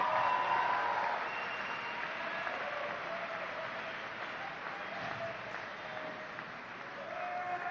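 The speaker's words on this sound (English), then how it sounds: "So please applaud them as you stand ready to graduate." Graduating engineering students applaud at a college commencement ceremony, a steady, dense wash of clapping from a large crowd that carries on for several seconds at moderate distance with no clear talk.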